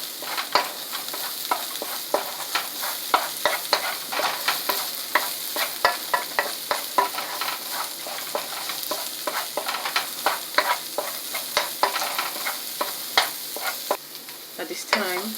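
Carrots stir-frying in a hot pan for a shrimp with lobster sauce dish, a steady bright sizzle under constant rapid clacks and scrapes of a spatula tossing the pieces, close and fairly loud, with no talking.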